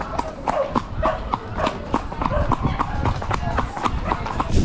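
Horse hooves clip-clopping steadily on a group trail ride, a close rhythmic series of hoof strikes with people talking over them.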